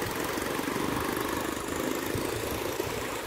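Motorcycle engines hum steadily at moderate volume as kids learn to ride near Lampu Satu beach in Merauke, South Papua, a continuous low drone with no break.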